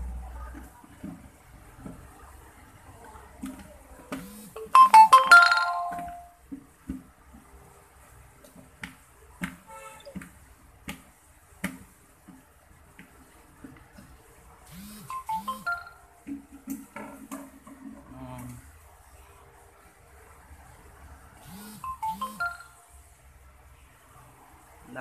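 Short electronic notification tones from a phone arriving several times in a room while someone prepares fishing bait in jars, with faint handling noises and a few brief taps between the chimes.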